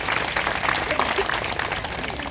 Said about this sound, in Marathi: त्यांचे जोरदार टाळ्या वाजून आपण या ठिकाणी स्वागत करूया